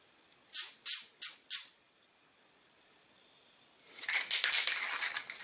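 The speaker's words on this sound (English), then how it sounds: "I'm going to spray it, but I'm covering everything else up because I don't want the overspray." Moly lubricant sprays from an aerosol can onto a Glock bolt, first four short, sharp hissing bursts close by, then after a pause a longer, louder sputtering spray.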